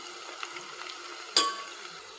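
Onions sizzle softly in a pan as they brown for veg dum biryani, a faint steady frying hiss broken by a single sharp clink of a spoon against the pan.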